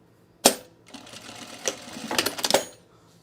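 Sewing machine stitching down a thread tail on men's cargo shorts, with a sharp clack and then a short burst of rapid mechanical stitching that rises toward the end, close and alone.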